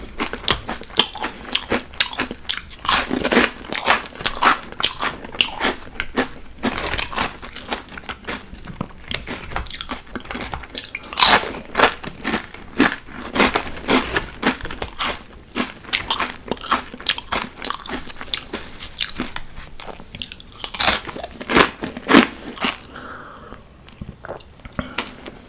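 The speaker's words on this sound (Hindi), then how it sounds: "अब ट्राई कर रहा हूँ चिप्स एंड डिप्स." Crunchy pita chips with dip being bitten and chewed close up, a steady run of sharp crunches repeating throughout with no talking.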